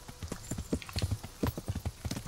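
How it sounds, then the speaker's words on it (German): Horse hooves in the video game Kingdom Come Deliverance clip-clop in a quick, steady rhythm of many close, crisp strikes, with no voices. "du kannst ja mit dem Pferd erstmal dahin reiten"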